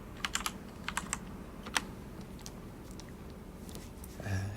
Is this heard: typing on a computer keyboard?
yes